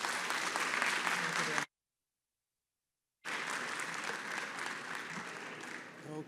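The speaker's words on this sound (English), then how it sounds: "Please put your hands together to give a very warm round of applause to Dr. Wilhelm Bohr" Warm applause fills a conference welcome reception at the Quantum World Congress 2024. The clapping is broad and steady, breaks off into a sudden stretch of silence, then resumes at similar loudness and tapers slightly toward the end.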